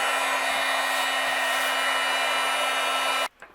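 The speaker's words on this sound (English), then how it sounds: "Now I'm going to let my heat gun heat up really good" A craft heat gun blows a steady, loud broadband roar with a constant hum, used to melt embossing powder on a Christmas card; it runs alone for about three seconds, then cuts off abruptly into quiet.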